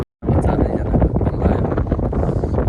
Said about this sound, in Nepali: कस्तो हावा चल्दो रहेछ